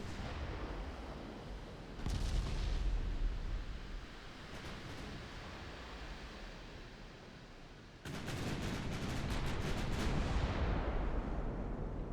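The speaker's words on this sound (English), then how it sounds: "Wait for the big guns to fire again." Big naval guns firing in the Ultimate Admiral Dreadnoughts naval warfare game, a few heavy booming salvos separated by long stretches of rumbling sea and battle ambience, with no talk.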